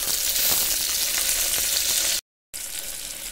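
Chopped tomato lands in a hot tempering of garlic, green chillies and asafoetida, setting off a loud, close, crackling sizzle that cuts out briefly before resuming just as strong.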